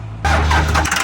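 A small-block V8 in a GT40 build fires up on starter fluid, a sudden loud catch into a rough, rumbling idle with uneven pulses, close and alone.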